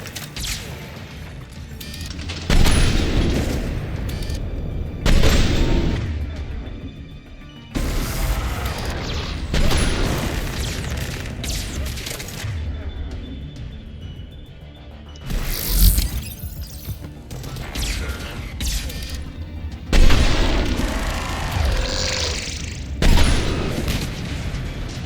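Heavy booms and rattling turret fire from a Mass Effect 3 battle roll through repeatedly, loud crashing explosions recurring every few seconds against a constant rumbling din.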